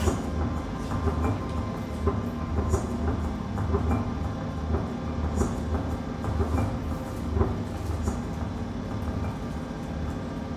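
Steady rumbling of a train rolling by with faint rhythmic clacking over the rails, continuous and fairly loud throughout.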